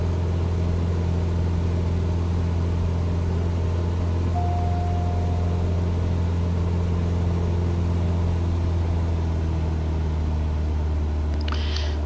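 Steady, droning engine hum of a Cessna 172 in Microsoft Flight Simulator, descending, with strong low harmonics holding evenly throughout and no talking.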